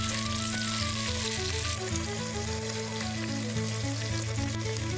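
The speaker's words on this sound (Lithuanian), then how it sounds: "į tą patį puodą, ir į tuos pačius riebalus dedame svogūnus, kuriuos šiek tiek apkepam" Onions frying in beef fat in a pot for an Irish beef and Guinness stew, a steady close sizzle and crackle with a low background hum running throughout.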